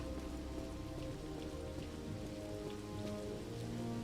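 Steady rain pours through a nighttime street scene in the video game Phantom Doctrine, a constant dense hiss with scattered droplet patter, no voices.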